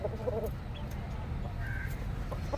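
Hens cluck softly in a poultry shed amid steady low background noise, the calls faint and intermittent.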